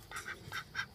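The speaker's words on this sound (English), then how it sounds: "That quiet raspy noise is what a drake," A white Pekin drake gives three quiet, raspy calls at an even pace, soft and fairly close.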